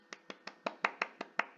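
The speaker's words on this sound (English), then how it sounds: "I'll clap for everyone, virtually or not virtually." One person claps their hands nine times in a steady, even rhythm, close and fairly quiet, with no voices alongside.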